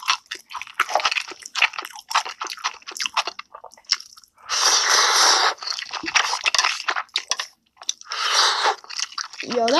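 Close, crunchy chewing of spicy cheese ramen and pickled radish, with bursts of wet munching and squishy bites repeating across the clip.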